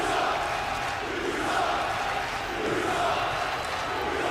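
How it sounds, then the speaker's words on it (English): A wrestling arena crowd roars and jeers at a wrestler in a sustained, dense wash of voices, steady and loud throughout with no single voice standing out. "I know y'all are booing me, and go ahead, keep booing me"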